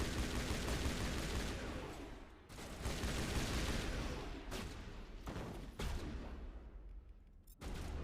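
Dense, continuous automatic gunfire fills a firefight in the sci-fi shooter game Mass Effect, loud and sustained, broken by brief pauses and sharp bursts, with no voices.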